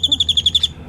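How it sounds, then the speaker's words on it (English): A bird calls outdoors in Cottonwood, Arizona, a rapid series of about seven sharp, high, evenly spaced notes lasting under a second, close and clear, then stopping. "there's one of the birds."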